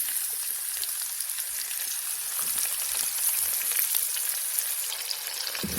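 Cumin seeds and lengthwise-cut onions sizzle and fry steadily in a hot pan, a dense continuous crackle with light stirring, no voice.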